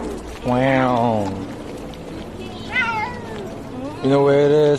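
Pet cats meow repeatedly with drawn-out, wavering cries, loud and close, in three separate bursts; people talk softly between them.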